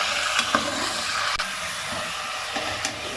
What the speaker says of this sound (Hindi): तकरीबन 1 से 2 मिनट तक इसको यूं फ्राई करेंगे।